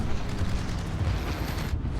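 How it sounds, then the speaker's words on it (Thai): Dropped bombs explode on a warship in the naval game World of Warships, a dense, sustained rumbling roar of blasts, loud and continuous with no talk. "ดูความแม่นของระเบิดฮะ อือหือสี่ลูกแบบเพนเต็มๆม"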